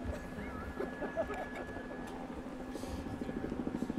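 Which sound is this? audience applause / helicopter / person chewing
helicopter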